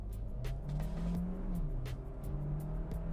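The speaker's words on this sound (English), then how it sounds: "So I put it in sport mode, we're gonna floor it." A 2023 Kia Sportage Hybrid in sport mode is floored at full throttle, its engine droning and rising in pitch with a noticeable shift, steady and close, heard from the cabin without talk.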